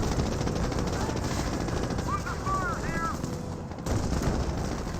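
Gunfire in a Company of Heroes battle, rapid machine-gun bursts crackling steadily with some whistling shell sounds over continuous battlefield noise, loud and sustained throughout.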